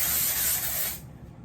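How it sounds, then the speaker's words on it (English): A steady close hiss of Redken Deep Clean dry shampoo spraying from an aerosol can for about a second, then cutting off to quiet. "Oh, but I do have some Deep Clean by Redken dry shampoo."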